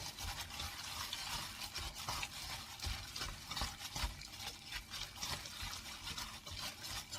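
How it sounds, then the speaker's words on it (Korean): Raw flounder salad with vinegar, sesame oil, sesame seeds and chili paste being tossed and mixed by hand, faint wet squelching and stirring sounds continuing quietly throughout. "자, 참기름도 좀 넣어줍니다. 그리고 통깨를 좀 넣어줄게요. 자, 이렇게 해서 이제 좀 묻혀줍니다."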